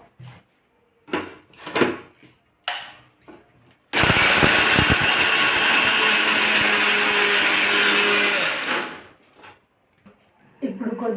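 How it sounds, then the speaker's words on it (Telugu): A kitchen mixer grinder blends peanuts, dried red chillies, garlic and salt in its jar with one loud, continuous whirring burst of about five seconds, framed by short bits of speaking and handling sounds before and after. "బాగా బ్లెండ్ చేసుకోవాలి."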